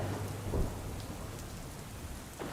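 Heavy rain pours down steadily in Palanpur, a dense broadband hiss close by with a brief low rumble of thunder near the start.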